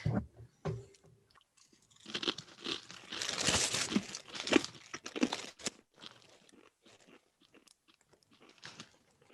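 A crunchy rice cracker is bitten and chewed up close, with sharp crackling bites followed by a run of irregular crunching that fades into quieter chewing and rustles.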